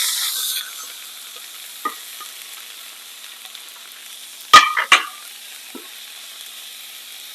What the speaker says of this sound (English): It does splatter a little bit, so careful when you're cooking, but see, crispy.